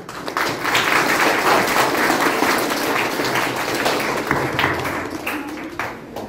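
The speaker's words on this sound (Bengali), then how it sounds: "সেই প্রয়াসকে আমরা সবাই করতালি দিয়ে স্বীকার করব" A crowd claps together at a public community event in Silchar, Assam: a dense, steady wash of applause that holds for about six seconds and then starts to thin near the end.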